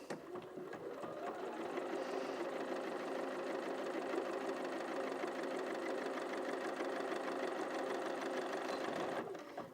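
A Bernina 475 QE sewing machine runs at reduced speed, sewing a locking stitch in a steady, even stream of rapid mechanical needle strokes, close and unbroken for the whole stretch.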